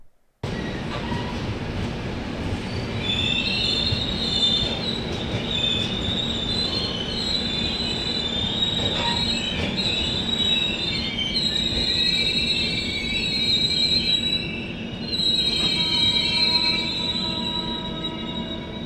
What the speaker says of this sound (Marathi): ही ट्रेन राजकोट जंक्शनवरून डिपार्ट झालेली आहे